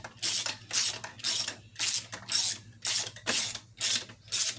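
A ratchet turning fine-thread bolts on a Jeep 4.0 engine during a rebuild, in repeated close clicking bursts of even rhythm, about eight strokes with short gaps between them.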